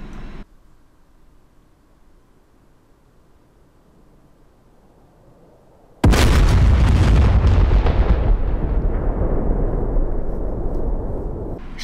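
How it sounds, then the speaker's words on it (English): A TV-guided missile explodes in the DCS World Su-25T flight simulator, a sudden loud boom cutting through a low cockpit hum, then a long rumbling roar that slowly fades. "Firing. And that's gonna track. And booyakasha."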